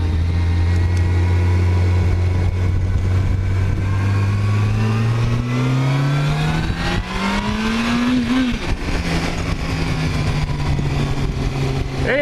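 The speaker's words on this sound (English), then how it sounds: "It's good to get on the bike." A motorcycle engine on a road ride revs and accelerates, its pitch climbing steadily before dropping and building again, loud and close under constant wind rush.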